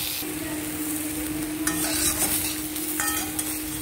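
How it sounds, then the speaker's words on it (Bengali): Eggplant pieces frying in hot oil over low heat, a steady close sizzle with a few brief scraping stirs partway through. "বেগুনগুলোকে দম কমিয়ে ভালো করে ভেজে নিতে হবে, যাতে ভালো করে সেদ্ধ হয়ে যায়।"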